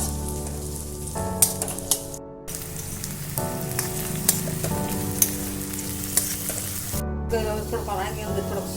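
Chopped onions go into hot oil for manchurian and sizzle steadily, close and continuous, with clinks and scrapes from a utensil and a mechanical hum underneath that cuts in and out.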